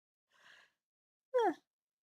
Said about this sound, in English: the yawns are getting me